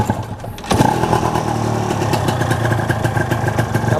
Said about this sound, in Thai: เดี๋ยวสตาร์ทนะครับ สตาร์ทให้ฟังเสียงกันเลย